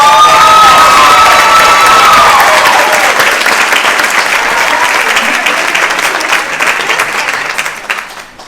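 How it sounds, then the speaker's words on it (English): Audience at a seniors' talent show claps and cheers in a loud, sustained burst of applause that slowly thins toward the end, with a few whoops rising over the clapping. "So how about another round of applause?"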